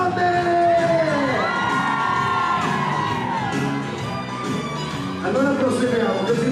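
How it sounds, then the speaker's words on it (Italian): Women in a nightclub party audience scream and cheer loudly and continuously, with shrill whoops rising above the crowd noise and a voice speaking through it. "ragazze, vi serve l'urlo delle donne"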